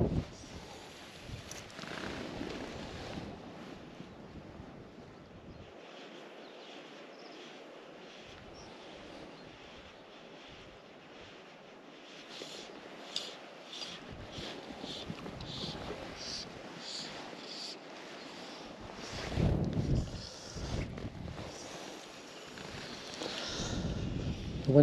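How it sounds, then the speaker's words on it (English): Steady wind buffets the microphone while fly fishing from a boat on Loch Doon, with a soft continuous rush, faint gusts and low water lapping, rising into stronger bumps near the end. "Wind's changed a wee bit, it's actually coming towards us now."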